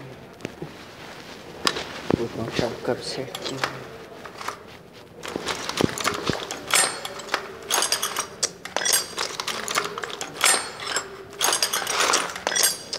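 A ratchet wrench turns on the rear suspension of a Volkswagen Fusca during lowering work, making repeated close clicking strokes in bursts with metallic clanks between.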